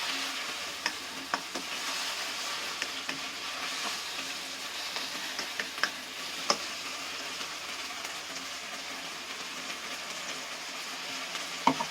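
Kimchi is sautéed in a pan while being made into kimchi fried rice: a continuous sizzle with scattered sharp taps and scrapes of the spatula stirring, close by and without talk.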